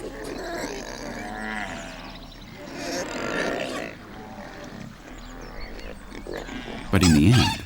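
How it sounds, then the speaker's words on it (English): Cattle and pigs crowd together at water, with loud overlapping animal cries and squeals filling the clip and a heavy burst near the end. "aside from the squeals of the pigs"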